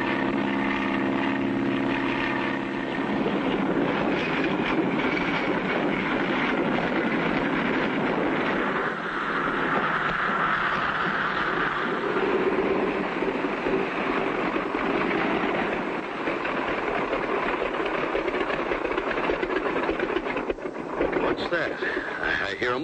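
A bush plane's propeller engine drones steadily through a cartoon scene, a continuous rumbling hum that rises and fades slightly, with characters talking over it throughout.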